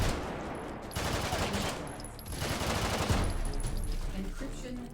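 Full-auto gunfire from a weapon in a video game, fired in sustained loud bursts that break off briefly near the one- and two-second marks, then roll on steadily to the end.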